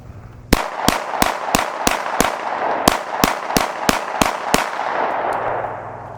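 A Glock pistol fires about eleven loud, sharp shots in steady succession, each a crisp crack with a short echo, ending in lingering reverberant noise.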